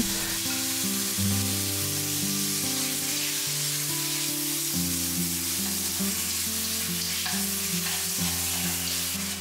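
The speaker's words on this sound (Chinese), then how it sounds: "锅里倒入肉片，开大火，迅速炒散" Lamb slices stir-fried in a wok over high heat, a steady loud sizzle and crackle running unbroken throughout, with a low hum beneath and no talking.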